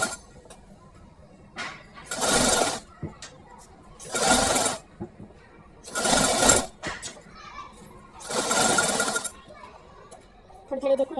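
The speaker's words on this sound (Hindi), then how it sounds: "थोड़ी देर मशीन रोकते हुए हम देख के सिलाई करेंगे, वरना झोल हो जाएगा" A sewing machine stitching the sleeves of a baby frock for a 2 to 3 year old runs in four separate loud bursts of about half a second to a second each, with short pauses between, and faint bits of voice in the gaps.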